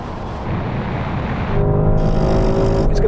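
Porsche Turbo GT and SUVs, including a Lamborghini Urus, BMW X6M, Tesla Model X and Jeep Trackhawk, launching in a drag race, a loud close engine roar rising in pitch and building as they accelerate.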